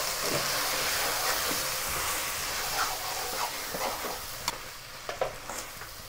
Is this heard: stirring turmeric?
yes